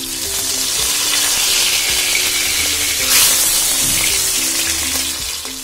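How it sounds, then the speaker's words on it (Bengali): Large pieces of pomfret fish fry one at a time in hot oil in a pan, with a loud, dense, steady sizzle and a brief burst as a piece is turned, up close with no talking. "যেহেতু মাছের সাইজটা একটু বড়, সেই জন্য আমি একটা একটা করে মাছ আগে ভেজে নিচ্ছি"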